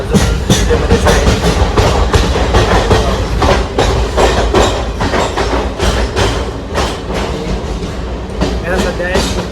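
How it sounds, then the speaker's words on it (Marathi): Loud, continuous rumble and rattle from inside a moving passenger train, with rhythmic clickety-clack of wheels over rail joints and carriage vibration throughout; faint voices may be buried in the noise. "आजचा दिवस 3रा आणि मी अजून रेल्वेमध्येच आहे."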